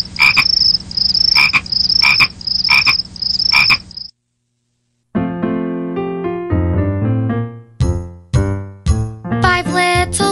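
Frogs croak in a children's counting song about five little speckled frogs: five loud, evenly spaced croaks with tinkling accents, then a short silence before a bright sing-along melody begins.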